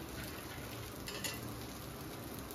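Dosa batter frying in oil on a hot pan at home, a steady close sizzle and crackle running throughout with no one speaking.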